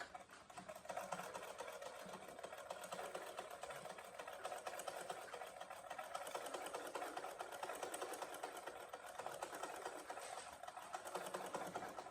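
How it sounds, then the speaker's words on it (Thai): A sewing machine stitches sinh skirt fabric with a fast, even, continuous mechanical whir and patter, faint and unbroken throughout, with no talking. "ต้องมีจักเย็บผ้าแบบนี้อันนึงนะคะ"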